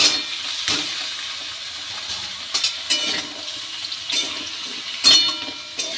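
Ridge gourd and potato pieces tumble into a pan of frying onions and chillies, setting off a bright hissing sizzle with several sharp splashy bursts as the pieces land, close and fairly loud.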